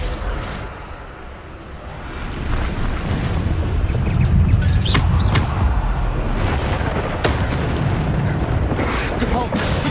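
Blasts from the Bombarda spell in the wizarding game Hogwarts Legacy, heavy booming explosions and rumble swelling across the clip, with a voice calling out spell names over the action.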